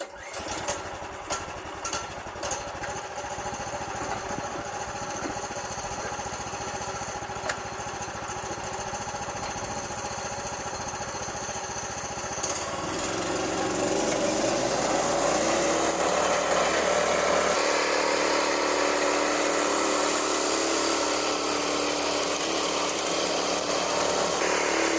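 A Farmall H tractor repowered with an 18 HP Duromax 440cc engine drives a bush hog, making a continuous close engine drone that grows louder and rougher partway through as the load rises, with no voices.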